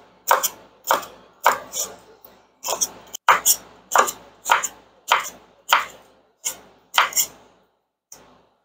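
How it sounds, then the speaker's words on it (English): A knife slices vegetables into quarter-inch matchsticks on a cutting board, about a dozen crisp, evenly spaced chops up close, each a sharp tap, with short pauses between and no talking. "Then I'm going to give these a cut so they're nice matchsticks"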